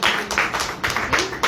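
Audience at a live health session clapping together, a fairly loud burst of repeated claps with a steady rhythm over about a second and a half, no talking.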